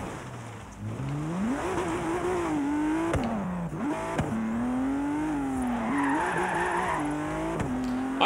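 Car drifting in Forza Horizon 3, engine revving and rising and falling in pitch continuously, with tire skids and squeals as it slides through turns, loud and close throughout.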